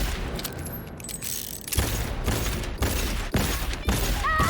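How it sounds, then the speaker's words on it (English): Full-auto gunfire in Cyberpunk 2077, a run of sharp, rapid bursts of shots over dense background game noise, loud and close. "let's listen to this full auto"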